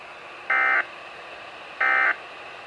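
Weatheradio Canada weekly test alert: two identical electronic tone bursts, each lasting about a third of a second and sounding clearly over faint background hiss, separated by a pause of more than a second.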